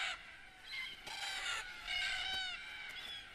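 Red-tailed black cockatoos call at a desert watering hole, a chorus of harsh, grating squawks and screeches overlapping from several birds at moderate distance, rising and falling without pause.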